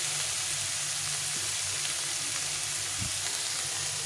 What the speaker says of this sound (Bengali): মাছটাকে একদম অল্প ভাজতে হবে